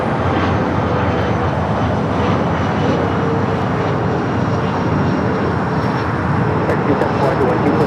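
American Airlines jet airliner bound for JFK at LAX, a steady broad engine rumble holding throughout at moderate distance, with a voice speaking over it.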